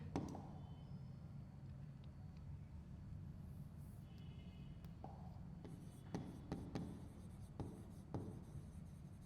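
A pen writes an answer on paper, a soft continuous scratching low in the mix, with a few sharper ticks toward the end, for a biology exam paper solution.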